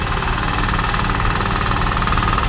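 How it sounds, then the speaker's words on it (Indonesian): A Firman FTL620 mini plough tiller's engine runs loud and close, a dense rapid knocking chug holding steady without a break. "mesin bajak mini dari Firman"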